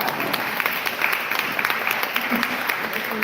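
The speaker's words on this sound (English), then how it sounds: "Round of applause for finding this room." An audience at a political candidate forum gives a short burst of steady applause, dense and fairly close, with some faint voices mixed in.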